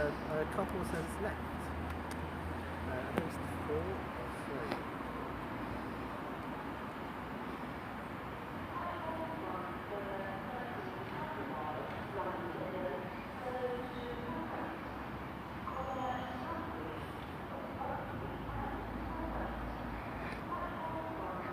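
A passenger train pulls out of Coventry station bound for Milton Keynes Central, a steady low rumble of wheels and traction under station ambience, with people talking nearby throughout.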